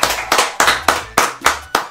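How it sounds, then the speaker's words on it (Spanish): Applause from a small group at a live online event, several short bursts of clapping about a quarter second apart, close and fairly loud, with no talking. "un aplauso entonces para Hazy que está ahí y ya se reportó"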